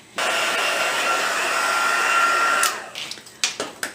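A heat tool blows steadily for a little over two seconds while melting copper embossing powder over champagne foil. Its loud, even whoosh cuts off abruptly and is followed by a few sharp handling clicks.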